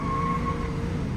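The V8 engine of a 1994 Ford F-250 XLT SuperCab 4x4 runs at a steady idle, a close, continuous low rumble lasting only a brief moment.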